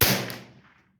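A single close rifle shot from a Savage B22 precision .22 rifle, a sharp crack with a quick decaying tail lasting under a second.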